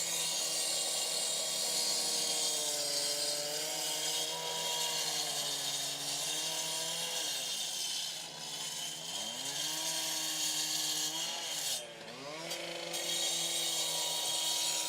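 A Stihl cutoff machine finishing a deep cut down to the bottom of the workpiece, its engine screaming loud and steady, dipping in pitch twice as the blade bogs into the cut and recovers.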